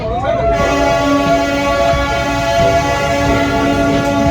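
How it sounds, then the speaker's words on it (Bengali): The Darjeeling toy train rumbles along through the town with a long, steady horn blast sounding close by throughout, with faint voices underneath, on a foggy day. "এই যে ট্রেন যাচ্ছে পুরো দার্জিলিং সিটিটা দিয়ে এই টয় ট্রেনটা যায়"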